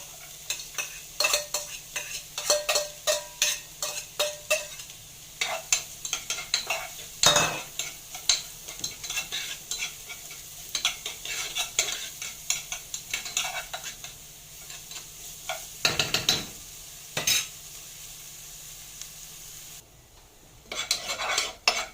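Minced onion softening in ghee in a pan, with frequent clinking and scraping of a utensil stirring against the pan over a quiet, low sizzle.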